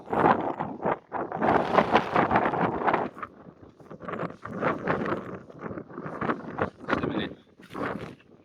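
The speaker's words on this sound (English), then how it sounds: "It is windy." Gusty wind on Stanage Edge in the Peak District, rumbling and buffeting in uneven surges, with brief quieter gaps between the stronger blasts.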